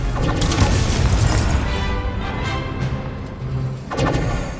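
The Confringo blasting spell explodes in the Hogwarts Legacy video game, a loud booming blast with rumbling crashes and a second impact near the end.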